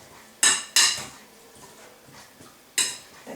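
Sea salt being tossed into chicken wings for Jamaican jerk barbecue in a bowl, giving three sharp clattering knocks of dish and utensil contact, near and fairly loud, with quieter rustling between them.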